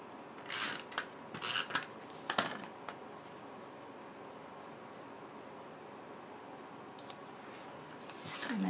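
Tape pulled off a roll and pressed onto a paper card for a fall critters card, several short crackling rips and pats close by and quiet, then a pause before a final louder rip.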